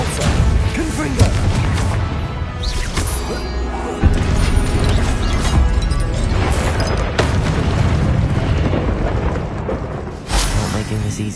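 In the video game Hogwarts Legacy, Confringo blasting spells go off as a run of loud, heavy booms and crashes amid busy combat noise, with several sharp impacts spaced across the fight.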